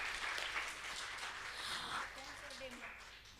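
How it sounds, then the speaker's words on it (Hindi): An audience at a Pune art festival applauds with a dense, sustained clapping wash that fades slightly toward the end, heard fairly faintly with a voice mixed in. "सो इस बात के लिए भी ज़ोरदार तालियां हो जाए एक बार।"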